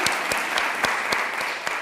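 Audience applause at a music therapy program's anniversary celebration, a short burst of steady hand clapping from a room full of people, moderately loud and even.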